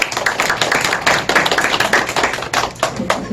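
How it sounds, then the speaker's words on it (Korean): An audience at a poetry reading event at a literary museum applauds to welcome a poet, giving a dense, steady roll of many hands clapping, loud and close, continuing throughout. "여러분 오병숙 시인을 박수로 맞이해 주시죠."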